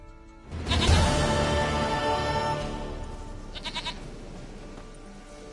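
A goat in The Witcher 3 gives one long, loud, wavering bleat up close, then fainter rustling and a few small follow-up noises.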